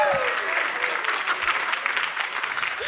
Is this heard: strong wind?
no